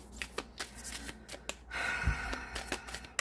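Tarot cards shuffled by hand in repeated quick riffling bursts, close and fairly loud, with a short rustle midway and no talking.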